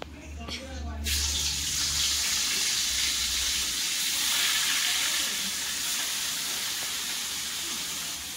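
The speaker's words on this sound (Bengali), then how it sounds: "এবারে নুন হলুদ মাখানো কাতলা মাছগুলো দেবো। এবার করে মাছ তেলের মধ্যে দেবো।" Salted, turmeric-rubbed katla fish pieces drop into hot oil in a kadai, setting off a sudden loud, steady sizzling hiss that carries on for several seconds. A voice is briefly heard just before it starts.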